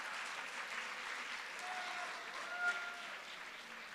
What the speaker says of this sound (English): Can we give the graduating seniors a big round of applause?